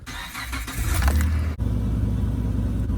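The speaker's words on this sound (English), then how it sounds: "Now we'll go start the vehicle." A vehicle engine cranks and catches, then settles into a loud, steady idle close by, with a 50 amp 12 V DC battery charger fitted to the vehicle.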